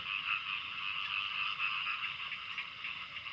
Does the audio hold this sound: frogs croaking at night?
yes